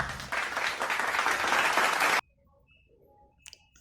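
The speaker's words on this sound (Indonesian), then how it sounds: "Yuk kita berikan tepuk tangan untuk kelompok 2." Classroom applause for a student group in a fifth-grade class: a dense burst of clapping from many hands runs steadily for about two seconds, then cuts off into near silence.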